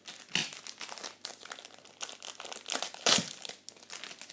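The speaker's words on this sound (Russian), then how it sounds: "И достаем из пакетика наш блокнотик." A plastic bag crinkles as a notebook is pulled out of it, a Hasbro toy set, with steady, close rustling and sharper crackles throughout, peaking loudly near the end; no speech.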